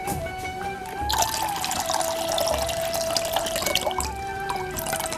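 Water poured into a saucepan for baklava syrup in a home kitchen, a steady splashing stream that starts after a brief pause and runs close and loud for several seconds without talk.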